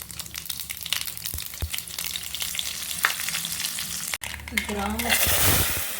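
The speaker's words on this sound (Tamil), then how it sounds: "இதுக்கு ஒரு தாளிப்பு மட்டும் கொடுத்துட்றோம்." Spices tempering in hot oil for a village-style sundakai sambar sizzle and crackle loudly and continuously, with a brief stirring clatter and a burst of hissing near the end.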